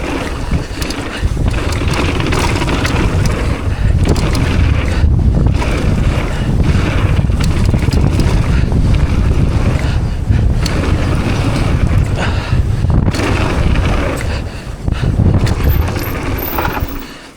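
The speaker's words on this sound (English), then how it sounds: "Wow, I could feel wind then." Strong wind buffets the microphone at a dirt bike track on a windy day, a loud, steady roar that dips briefly near the end, with no voices.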